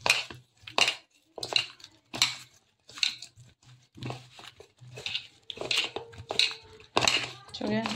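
A cook mixes washed food with salt and turmeric in a metal dish, making repeated close clinks, scrapes and wet rubbing in irregular bursts, with soft talk between them.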